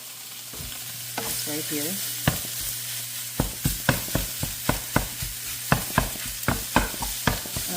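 Sausage sizzling in a pan for a breakfast casserole, a steady frying hiss punctuated by a rapid series of sharp clacks and taps as a utensil stirs and scrapes, close and distinct, with a brief spoken remark.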